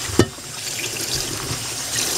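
Mulberry leaves rinsed under a running kitchen tap, a steady close hiss of flowing water with a brief splash near the start.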